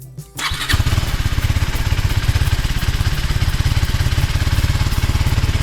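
A KTM Adventure motorcycle engine fires up with a brief clattering start, then settles into a loud, rapid, steady throb at close range with no voices.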